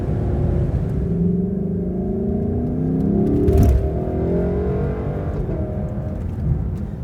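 A Lexus LC500 convertible's 5.0-litre naturally aspirated V8 is revved gently in normal mode, its smooth engine note rising and falling as a steady, near rumble with a brief swell midway.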